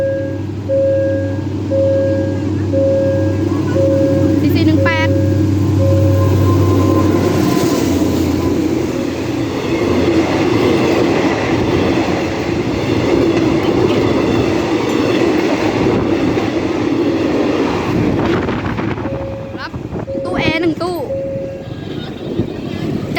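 Thai ordinary passenger train hauled by two diesel locomotives, the lead likely a CC-class unit, accelerating: loud sustained engine roar and rumble with horn-like tonal notes, passing close, with someone speaking over it.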